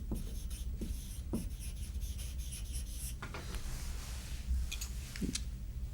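A pen scratches across paper in quick bursts of short strokes and scribbles, close and fairly crisp, with a few brief pauses between words.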